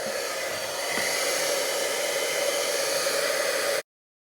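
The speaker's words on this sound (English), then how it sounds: "And when we heat it up, it'll puff up." A heat tool blows with a steady, close hiss as it heats puff paint on a card, then cuts off abruptly near the end.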